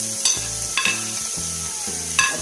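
Softened onions sizzle steadily in a pan as chopped tomatoes go in, with a few sharp stirring clanks and scrapes over the constant frying hiss.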